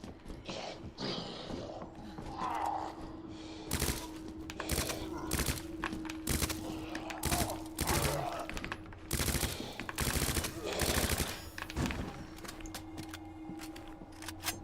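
Rapid gunfire from the video game Resident Evil 2 Remake crackles in dense, repeated bursts throughout, with a steady hum beneath and a player's voice talking over parts of it.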